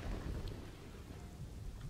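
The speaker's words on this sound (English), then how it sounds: "And there's a storm as well." Soft, distant rumble of thunder over a steady hiss of rain during a storm in the city-building game Kingdoms and Castles, low and continuous with no voices.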